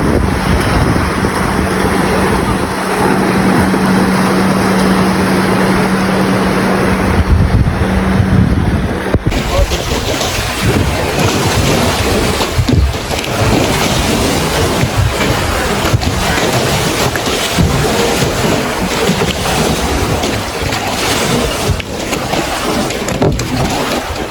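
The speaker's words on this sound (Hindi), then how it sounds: "अभी जा रहा हूँ आप लोग को दिखाने के लिए स्पीड बोट दिखाने जा रहा हूँ" A speedboat on a lake at Umrongso, Dima Hasao, during a Bohag Bihu picnic, with a steady engine hum early on under loud wind buffeting and rushing water that carries on throughout.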